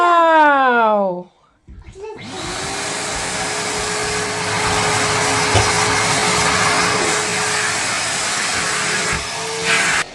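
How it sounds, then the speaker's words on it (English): A Henry Hoover vacuum cleaner starts up after a short spoken moment and runs with a steady, loud whine while cleaning a dirty, smelly carpet, its tone shifting slightly near the end. "It's the vacuum cleaner."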